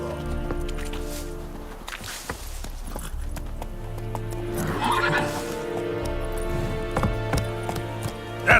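Roach, Geralt's horse in The Witcher 3, neighs and gallops across open ground, a whinny rising over a steady clip-clop of hooves beneath game music and ambient sound, moderately close.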